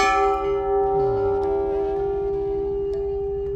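A large temple bell hums and vibrates with a steady, sustained ringing tone that slowly fades, close and clear with no voices.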